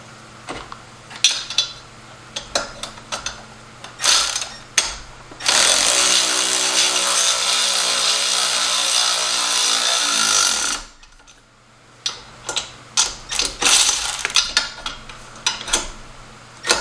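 Metal wrenches clank and rattle against mechanical parts while working on a Subaru BRZ, with sharp irregular clinks and a long steady grinding stretch in the middle, close and fairly loud.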